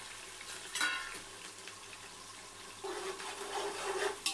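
Mutton korma with onion, green chilli, fenugreek and mint leaves is stirred in a pan, giving a soft sizzle and scraping that swells louder midway, with a couple of sharp utensil knocks.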